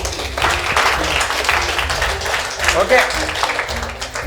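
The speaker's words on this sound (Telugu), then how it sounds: "కొట్టండి మరి క్లాప్స్ గట్టిగా" Audience at a makeup academy talk clapping together in a steady, loud burst of applause lasting several seconds, with a voice speaking briefly over it.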